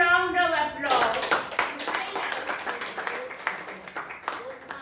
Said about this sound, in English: Please welcome Toastmaster Rupesh with a loud round of applause